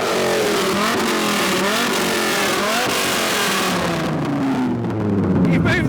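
A second-generation Dodge Viper engine revs repeatedly, its pitch rising and falling in loud, throaty surges close by.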